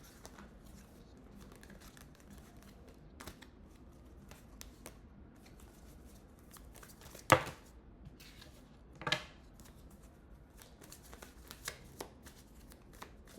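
Cards are shuffled before one last card is drawn, giving a faint, close rustle and riffle with two sharper snapping flicks in a quiet room, without speech.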